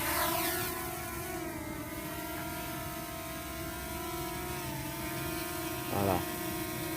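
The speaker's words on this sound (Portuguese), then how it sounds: "Já liguei o drone aqui." A small drone hovers and flies nearby, its propellers giving a steady buzzing whine whose pitch drifts slightly over several seconds, with a brief bump near the end.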